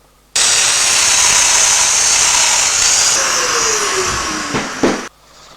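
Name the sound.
domino joiner cutting a slot in wood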